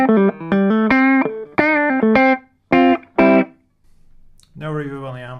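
Electric guitar played through a pedalboard and amps with no reverb or delay, giving a dry, close sound: a run of plucked notes and chords with short gaps, a few sharp stabs, then one sustained chord.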